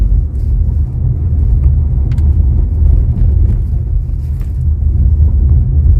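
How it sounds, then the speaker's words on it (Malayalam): Low, steady rumble of a Toyota Glanza car driving over a rough road, heard from inside, with occasional faint knocks and rattles. "ഞാൻ ഒരു ചെറിയ റഫ് റോഡിലൂടെ ഇപ്പോൾ ഓടിച്ച് കാണിച്ചു തരാം"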